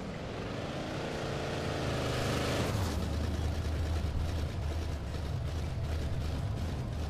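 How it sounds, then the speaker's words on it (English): A truck engine in the Alan Wake video game rumbles loudly and continuously, shifting from a droning, tonal roar into a rougher, heavier growl partway through, close and with no talk over it. "In a truck. Either way, it's got a loud engine."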